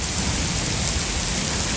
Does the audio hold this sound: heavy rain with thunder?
yes